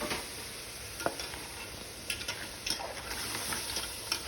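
Cleaned crabs frying in oil with spice masala, a steady close sizzle with stirring scrapes and occasional utensil taps against the pan, no voices.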